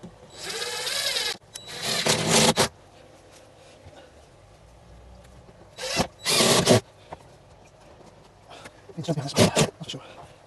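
A power drill drives screws into a wooden stand for a fish tank used as a koi grow-on setup, with three loud, close bursts of whirring, each a second or so long, separated by quiet pauses.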